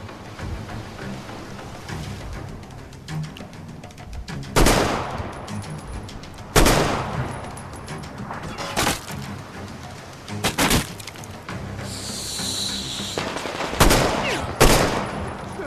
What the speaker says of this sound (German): von wo kommen denn jetzt so noch Schüsse?